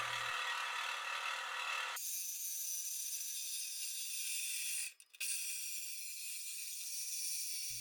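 A cutting tool slices through steel exhaust pipe for a 2015-and-later S550 Mustang H-pipe install, a steady harsh high grinding that starts abruptly, briefly cuts out, then resumes loud and continuous.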